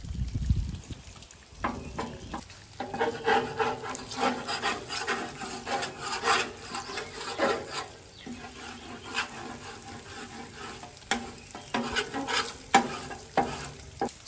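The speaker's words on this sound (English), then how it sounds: "the bacon's cooking fine because bacon's going to cook at a low temperature, high temperature" Bacon and sausage cooking on a Weber Slate griddle, a steady close sizzle and crackle running throughout, with intermittent scraping and rubbing from a spatula on the flat top and no talking.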